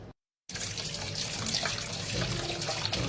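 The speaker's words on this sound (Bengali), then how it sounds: "আমগুলো ধুয়ে নিই।" Mangoes are washed under a running kitchen tap. After a brief silent gap, water splashes in a steady, fairly soft stream with no one speaking.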